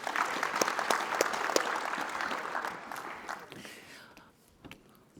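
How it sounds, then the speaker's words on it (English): Applause for a conference panel as a session wraps up: a crowd claps steadily and fairly loudly, then thins out and fades to scattered claps near the end. "One more round of applause for our panel"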